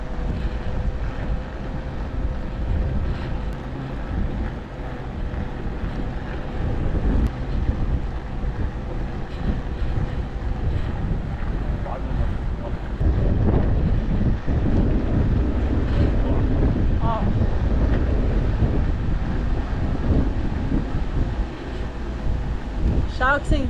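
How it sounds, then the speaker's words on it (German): Strong, steady wind roars across a mountain slope at Monte Autes near Vinadio, a constant loud rumbling buffet against the microphone throughout with no letup. "Sehr, sehr windig"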